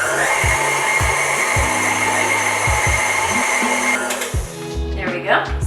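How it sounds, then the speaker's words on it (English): An electric mixer beats cream cheese with granulated sugar at medium speed, giving a steady loud whir with rhythmic low thumps as the beater turns in the bowl, then slowing near the end while someone talks over it. "this together on a medium speed for a few minutes, basically until it's nice and creamy, with 2/3 cup of granulated sugar"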